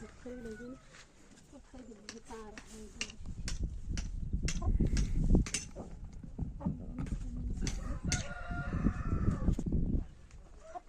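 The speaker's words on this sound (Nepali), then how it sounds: "कुखुरा चाहिँ यहाँ हालिसक्यो होइन गाइज कुखुरा यहाँ झोलामा" A chicken carried in a bag during a short ride crows and clucks close by, mixed in with voices and a steady rumble of movement.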